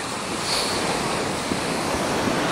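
Steady roar of Atlantic ocean surf at Taghazout, Morocco, with waves washing in continuously, mixed with gusty wind buffeting the microphone.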